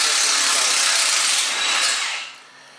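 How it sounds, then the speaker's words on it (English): A ratchet or power tool works loose the exhaust system clamps on a Chevy K5 Blazer with aftermarket exhaust, giving a loud, steady broadband whir for about two seconds before cutting off. "Now I got the big dummy undoing all the clamps on the rest of the system"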